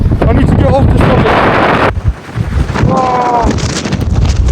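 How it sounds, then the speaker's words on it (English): Strong wind roars across the summit of Scafell Pike, England's highest mountain, on a cold night, a loud, steady buffeting rush battering the microphone throughout, with a brief muffled voice-like sound partway through. "It's way too windy and it's way too cold."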